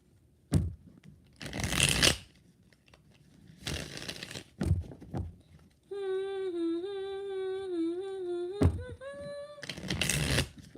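A tarot deck is shuffled in several quick riffling bursts, close and crisp, separated by quiet gaps and a sustained wavering tonal hum before the final shuffle.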